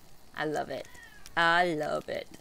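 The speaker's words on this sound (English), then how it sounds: "If you guys hear a cat meowing in the background" A house cat meows twice from nearby, a short call then a longer drawn-out one, between brief bits of a person talking.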